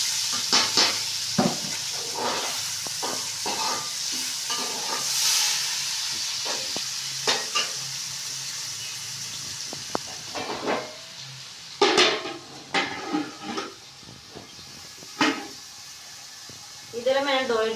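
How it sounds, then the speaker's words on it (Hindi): Onions frying in oil in a kadai on a stove, a soft hiss and sizzle broken by clinks and scrapes of utensils, with someone speaking at intervals over the cooking. "हमने ऑयल डाल दिया है कढ़ाई के अंदर। अब प्याज में डालने लगी हूँ।"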